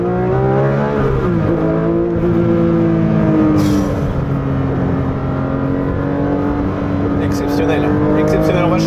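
A Porsche 911 S/T engine revving hard as the car accelerates, a loud, steady rising drone heard from inside the cabin, with someone talking over it.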